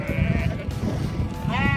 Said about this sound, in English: Oh, a lot of sheep here.